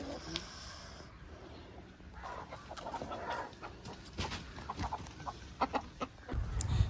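A rooster on a farm in Sri Lanka calls hens to food with low clucking, a series of short, close clucks and rustling over an outdoor background, ending with a louder thump.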